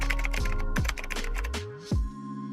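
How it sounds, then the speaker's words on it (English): Rapid, steady tapping on a computer keyboard, close and fairly quiet, with a few heavier keystrokes near the end and no talking. "Now type the ID name, so I will type Instagirl."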